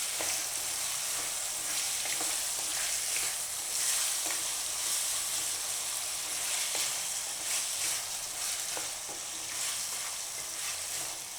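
Potatoes fry in a pan with steady sizzling throughout, broken by occasional scrape-and-clink sounds as they are stirred.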